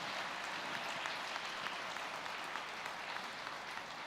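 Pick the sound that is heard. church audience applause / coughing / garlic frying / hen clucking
church audience applause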